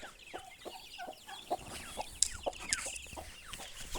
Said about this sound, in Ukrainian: Наша індичка з курчатами